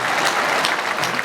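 Brief, even applause from an audience for a child who has recited a poem at a school education celebration, a dense patter of many hands throughout.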